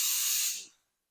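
A paint sprayer gives one close, loud hissing burst while spraying a ceiling, then cuts off and fades to silence.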